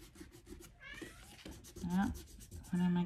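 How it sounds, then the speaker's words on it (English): A house cat meows several times wanting to be let in, clear wavering calls near the mic, with a person talking over and between them. "one of my cats wants to come in"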